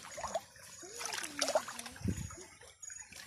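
A poisonous root crop is rinsed under strong, fast-flowing water to wash out its toxin, giving soft trickling and splashing against a broad noisy wash, fairly faint and with no talk.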